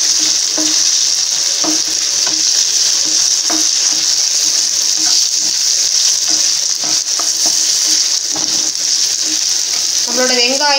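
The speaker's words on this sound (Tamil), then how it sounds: "நம்மளோட வெங்காயம் இதெல்லாம் கொஞ்சம் நல்லா கோல்டன் ப்ரவுன் மாதிரி கொஞ்சம் வரட்டும் அது வரை நம்ம இதை வதக்கி விடணும்" Onions sauté in a pan for garlic kuzhambu, a loud steady sizzle running throughout with regular scraping stirs of a spoon against the pan.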